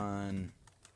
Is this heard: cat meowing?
no